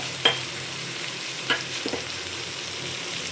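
Spinach frying in a pan with turmeric and cumin, stirred with a few sharp scrapes and clinks of the utensil over a faint steady sizzle, with no talking.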